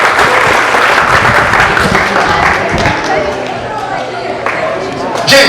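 A school class audience breaks into loud, dense applause, a close, busy patter of many hands that tapers slightly toward the end, with voices mixed in.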